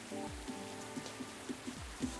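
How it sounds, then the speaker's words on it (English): Soft rain falls in the video game Coffee Talk, a faint steady pitter-patter of drops with gentle low musical tones underneath. "I love that like pitter-patter of rain falling on a nice evening night"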